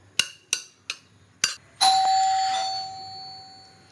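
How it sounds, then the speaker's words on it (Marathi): A doorbell rung repeatedly in a home kitchen: four quick sharp chimes in a row, then a longer ringing tone that slowly fades, loud and close with no talk over it. "किती वेळा तू किती बॅक टू बॅक दाबत चालली बेल?"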